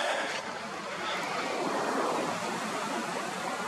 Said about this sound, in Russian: увеличилась и сила ветра